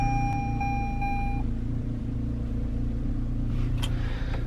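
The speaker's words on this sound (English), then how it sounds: "We'll go ahead and start it up real quick." A 2021 Toyota Highlander engine runs with a steady low rumble close by, and a few short electronic chime tones sound over it at the start.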